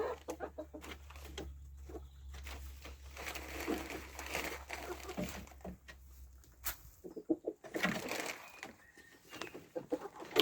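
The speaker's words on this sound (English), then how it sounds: "Right, chickens." Several chickens cluck and squawk close by in irregular bursts, with some rustling and a low hum in the background.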